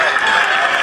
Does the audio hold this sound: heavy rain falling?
no